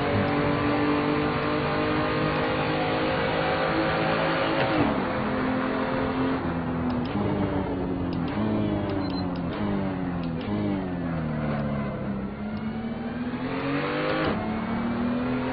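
A BMW race car engine in the Assetto Corsa racing game revs loud and close, its pitch climbing and dropping through gear changes over a steady drone, with other cars audible around it.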